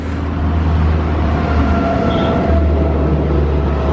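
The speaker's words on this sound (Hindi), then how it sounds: "और ये जा रही है ट्रेन यहाँ से" A train rolls past on a railway track beside a slum area in Delhi, a loud steady rumble and clatter close by, with no talk over it.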